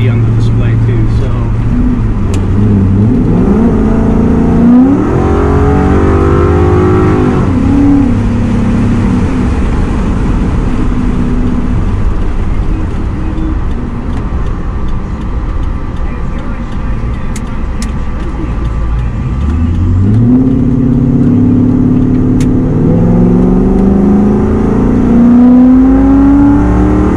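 A Ford Coyote V8 in a dually crew-cab truck accelerates hard. Loud rising engine sweeps climb and shift through gears in two main pulls, with steady road and cabin drone between them.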